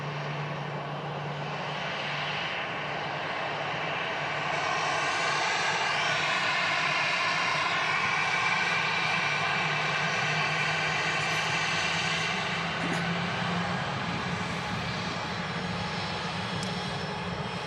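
EasyJet Airbus A320 engines at Manchester Airport, a steady loud jet roar with whining tonal layers that swell slightly midway and hold throughout, no voices.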